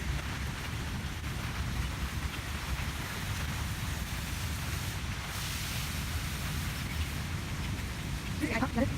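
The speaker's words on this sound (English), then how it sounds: "I just came home. And it's raining." Rain falls steadily outside an apartment under cloudy skies, a constant broadband patter and wash that stays level throughout, with a few faint clicks near the end.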